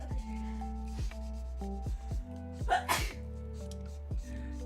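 A single sneeze bursts out over steady, repeating electronic tones, loud and close, standing clearly apart from the beeping pattern.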